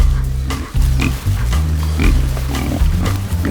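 Pigs grunt and oink close by in a run of deep, repeated, overlapping grunts. Loud, with no talking.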